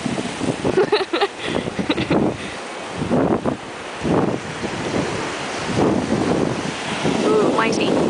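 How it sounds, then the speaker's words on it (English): Ocean waves surging onto a beach, with rushing surf swells rising and falling amid heavy wind buffeting the microphone and bursts of background noise. "These are the waves."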